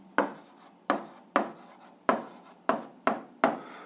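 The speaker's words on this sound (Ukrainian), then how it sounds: "І записуємо відповідь." A math answer is written out by hand in seven distinct, scratchy strokes. They come at a steady, even pace and are close and clear, with no talking.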